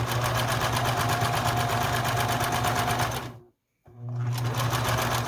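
A sewing machine stitching scrappy quilt pieces whirs steadily up close, drops out briefly for a moment of silence, then resumes its even hum.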